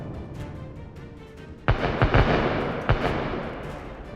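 Cluster bombs dropped on trenches burst in a rapid series of sharp, distant-sounding blasts, several overlapping cracks and booms after a low rumbling lull, with a trailing rumble between them.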